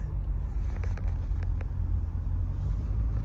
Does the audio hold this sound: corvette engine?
yes